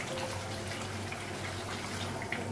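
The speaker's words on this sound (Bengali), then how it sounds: "আলুটা লাগিয়ে ঝোলের জন্য জল লাগিয়ে" Water pours steadily into a pot of mutton and potato curry, a continuous close gushing splash with no pauses or voices.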